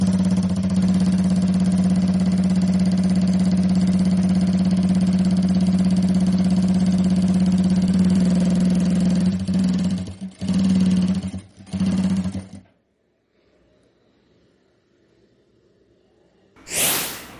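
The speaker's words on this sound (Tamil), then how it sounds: "இப்போ நான் உங்களுக்கு கேதரிங் தையல் தைச்சு காமிக்கிறேன்." Power sewing machine running a gathering stitch with a 4-in-1 presser foot: a steady close motor whir with a constant hum, breaking into short bursts before stopping, then a brief restart at the end.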